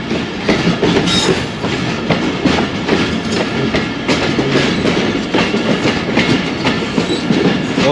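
A train pulls into Baddomalhi railway station on the Narowal branch line in Pakistan, with a steady, loud rumble of railcars and clattering wheels that runs without a break.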